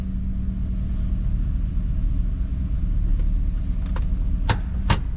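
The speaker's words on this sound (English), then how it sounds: "let's put it in drive. And we've got a forward gear. Go back to reverse." Chevy SSR with a new transmission idling as it is shifted between drive and reverse, a steady low engine rumble close by with a few sharp clicks and clunks near the end.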